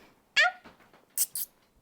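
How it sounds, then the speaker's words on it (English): A small pet gives a few short high squeaks close by, one longer squeal followed by two quick sharp chirps, in an otherwise quiet room. "It's squeaking."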